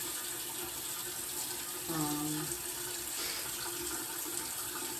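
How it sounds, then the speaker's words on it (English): A bathroom sink tap running, a steady hiss of flowing water heard continuously at low level, with a brief voice-like tone partway through. "sorry if this audio sucks because the sink is running"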